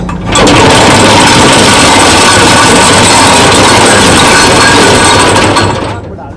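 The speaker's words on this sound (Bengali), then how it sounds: "আমাদের জাহাজটি নোংর করছে" A ship drops anchor in the Sundarbans, making a loud, continuous, rattling mechanical roar that holds steady for several seconds up close and then fades away.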